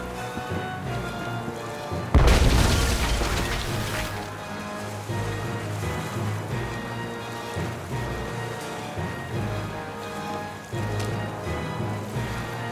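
A cannon fires in Tales of Monkey Island Episode 5 with one sudden loud boom that rolls off over a couple of seconds, set against steady game music and ambience.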